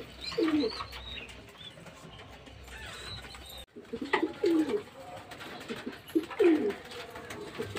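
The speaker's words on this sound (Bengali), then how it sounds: "অন্য কোনো পায়রা পুষি না, ম্যাড্রাস পায়রাই পুষি" Madras pigeons, a domestic breed, coo softly at close range in a few low, throaty bursts separated by quieter stretches, with faint chirps and light background noise.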